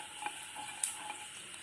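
Panch phoron seeds crackle and sizzle faintly in hot oil for a pumpkin-skin fry, a soft steady hiss broken by a few small pops, with no voices.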